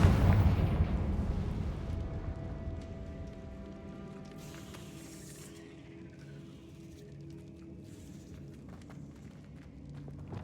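A Confringo blasting spell exploding in Hogwarts Legacy, a heavy boom up front whose rumble slowly decays over several seconds, with faint debris and ambient game sounds trailing after.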